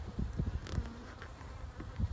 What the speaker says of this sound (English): you can see that the mood of the bees is nice and calm